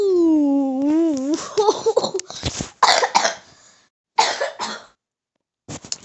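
Several harsh coughing bursts from one person, fairly close and loud, broken by short pauses, following a drawn-out vocal moan at the start.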